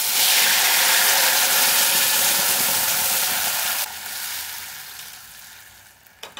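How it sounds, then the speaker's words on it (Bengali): Spices sizzle in hot oil for a chicken curry, a loud steady frying hiss that drops in level partway through as ingredients go in, with a faint clatter near the end. "এটা গরম হয়ে গেছে, এরপরে মশলাটা আমি দিয়ে দেবো"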